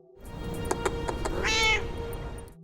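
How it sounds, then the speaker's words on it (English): A cat perched on a windowsill lets out a single clear, drawn-out meow midway, close and distinct above a low background hum with a few faint clicks. "she notices a cat sitting on her windowsill"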